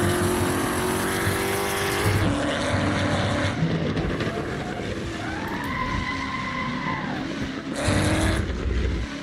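A Ford GT race car engine in the Assetto Corsa racing game revs loudly and continuously, rising and falling through gear shifts with a brief tire squeal, with no talk.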